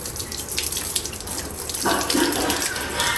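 Water pours steadily from a tap or hose while a dog is bathed at a Kerala home, a continuous close splashing rush that grows fuller partway through, with no talk.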